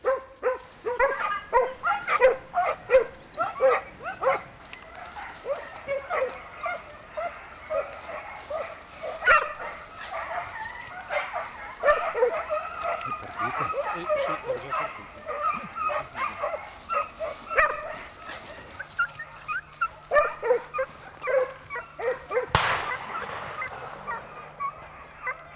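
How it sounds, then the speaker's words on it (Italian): Scent hounds bay on a hare trail during a hunt, with many overlapping yelps and bays carrying from a moderate distance in rapid bursts over roughly twenty seconds, followed by a sharp bang near the end. "le voci dei cani attizzarono nei cacciatori l'auspicio di una nuova,"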